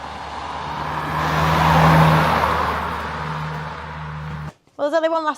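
A rear-wheel-drive Morgan car drives along a road with a steady, loud engine drone and road rumble that swells and eases. The driving sound cuts off near the end, when a voice briefly speaks.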